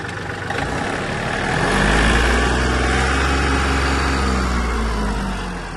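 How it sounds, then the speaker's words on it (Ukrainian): A Yanmar F-250 Japanese mini tractor engine chugs nearby, then rises into a louder rev that holds steady for several seconds before easing slightly. "Даю трохи газу."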